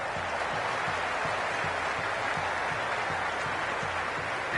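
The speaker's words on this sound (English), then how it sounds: "The crowd is electric right now." Crowd at a T20 World Cup cricket match applauding: a steady, dense wash of clapping and cheering, fairly distant, with a faint rhythmic thump underneath and no clear talk.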